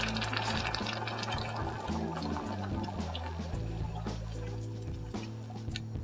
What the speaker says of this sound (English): pour 2 cups of the simple syrup into the hot sugar mixture. It's going to bubble up violently